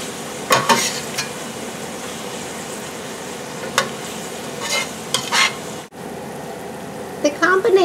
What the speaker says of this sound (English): The combination of the minced onions and the sorrel leaves and the garlic powder has been simmering for about 3 minutes